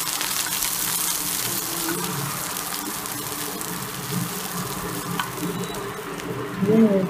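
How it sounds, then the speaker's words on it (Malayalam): Chopped onions, chilies and capsicum sauté in a hot pan for rasam, a steady close sizzle and crackle with occasional stirring scrapes. "അതിൽ വെച്ചിരിക്കുന്ന ഉള്ളിയും മുളക്, കപ്പൽ മുളകും ഇട്ട് വഴറ്റുന്നു"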